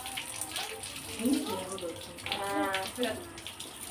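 Tap water runs and splashes while a toothbrush is rinsed at a sink, a steady gush under a child's and an adult's voices.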